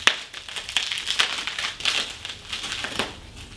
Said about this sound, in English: Discard this packaging as well